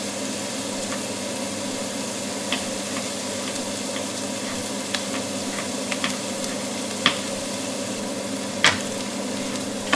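Onion fries in a pan for a tomato meatball sauce, giving a steady, even sizzle with occasional soft clicks and scrapes of stirring.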